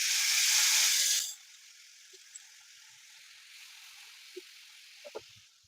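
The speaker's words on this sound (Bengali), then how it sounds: "একদম গরম তেলের মধ্যে আমি প্রথমে তেঁতুলের কাঁধটা ঢেলে দিচ্ছি" Tamarind paste tipped into very hot oil gives a loud, broad sizzling burst that cuts off after about a second, then settles into a faint steady hiss with a few small pops.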